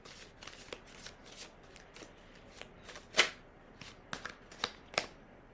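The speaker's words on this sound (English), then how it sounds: "Let's pull some tarot cards." Tarot cards are shuffled close up in a quiet room, a quick series of soft riffling bursts and sharp card snaps.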